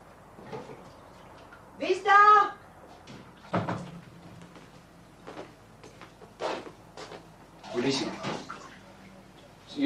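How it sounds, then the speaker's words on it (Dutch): Several sharp knocks on a door sound indoors, scattered between stretches of people talking in a Dutch-like language. "Kloppen."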